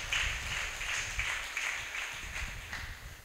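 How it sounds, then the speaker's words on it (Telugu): A church congregation claps their hands together in a steady, rhythmic beat, moderately loud and somewhat roomy, with a faint background murmur. "చప్పట్లు కొట్టి దేవుని నామాన్ని గణపరుద్దా."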